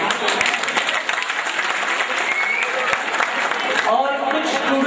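Audience clapping for a mimicry artist at a student function, a dense, steady wash of applause lasting the whole stretch with a faint murmur of voices mixed in.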